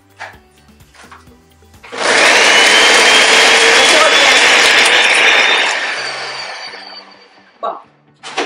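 A blender grinds smoked bongo fish with pig's feet, whirring loudly and steadily for about five seconds before winding down, with quiet speech before and after.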